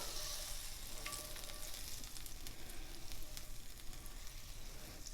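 About a tablespoon and a half of butter sizzling in a pan on a stovetop, a close, quiet, continuous crackle and hiss with small irregular pops and no voices.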